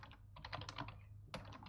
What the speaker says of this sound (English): typing is not working that well for me still